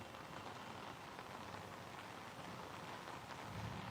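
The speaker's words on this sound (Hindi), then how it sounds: "भीषण बारिश और इसके अलावा तेज बिजली कड़क रही है" Faint, continuous rainfall from a thunderstorm in Delhi-NCR makes a soft, even hiss from a distance, unbroken throughout, with no clear thunderclap standing out.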